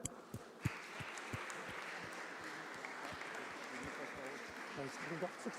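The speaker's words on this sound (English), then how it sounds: "why don't we give the winners a round of applause as they come forward?" An audience at an international awards ceremony for green building solutions applauds the winners as they come forward, a steady wash of clapping held at moderate distance, with a few sharper claps and some talk mixed underneath.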